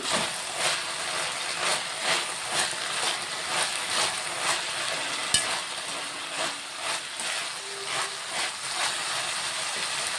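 Tamarind curry frying in a covered pan, giving a continuous soft sizzle and bubbling hiss with faint periodic pulses from stirring and one sharp click partway through.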